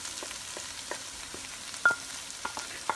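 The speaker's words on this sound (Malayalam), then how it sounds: "ഇനി ഈ സമയത്ത് നമുക്ക് നമ്മൾ എടുത്ത് വെച്ചിരിക്കുന്ന തേങ്ങ അതിനകത്തേക്ക് ചേർത്ത് കൊടുക്കാം" Grated coconut being stirred into green tomatoes cooking in a pan, a steady sizzle with occasional spoon scrapes and clicks across the clip, no voices.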